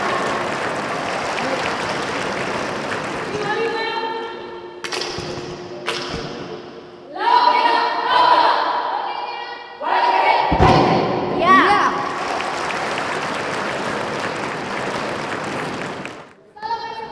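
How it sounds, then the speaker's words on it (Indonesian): Audience applause at a national grand final of a 1945 Constitution knowledge competition, a broad crowd clapping that swells in waves with loud bursts, thuds and shouts, then fades near the end. "kita beri tepuk tangan"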